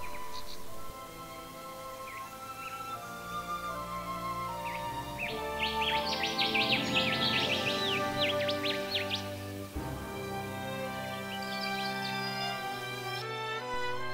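An Australian Rufous Whistler of the falcata subspecies, recorded in the Kimberley, sings a run of clear whistled phrases and quick chirps over a busy background of steady tones, moderately close and without talk.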